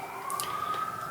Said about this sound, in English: firefighter pass by, the fire truck pass by